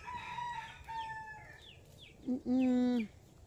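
A red rooster crows once nearby, loud and drawn out, after softer bird calls and a quiet background murmur.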